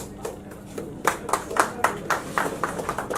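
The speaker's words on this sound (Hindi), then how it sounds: "क्या हम थोड़ी और एनर्जी के साथ तालियां बजा सकते हैं?" Audience at a film poster launch event clapping, starting as a few scattered claps and building into a quicker, uneven rhythm of hand claps from a modest group, fairly close.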